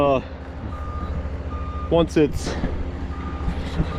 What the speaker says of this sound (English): try to back drag it out like that with the skid steer